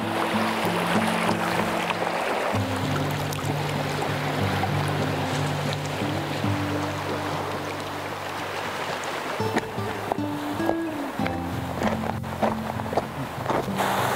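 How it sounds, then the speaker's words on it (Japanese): A loud river rushing in the Shiretoko area of Hokkaido, a constant roaring wash of water that fills the whole scene without pause, with a low tonal drone underneath. "川うるさいわ。"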